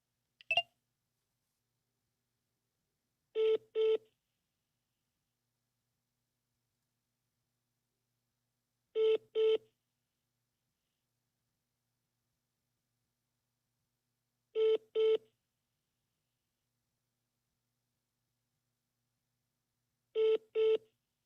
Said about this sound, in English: literally just pick up the phone